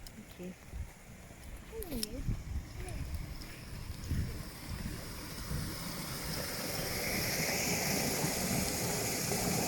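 Water from a stream-fed park lake runs through a stone sluice outdoors, a steady broadband rush that grows fuller and louder over the clip, with someone talking and brief bird chirps early on.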